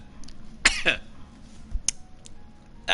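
A character coughs in the Resident Evil 3 game, a couple of short, close, harsh bursts near the start, with faint game sounds around them.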